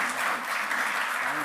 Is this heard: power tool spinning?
no